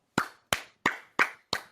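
Five sharp, evenly spaced claps ring out alone, close and fairly quiet, like a tiny group giving a brief round of applause.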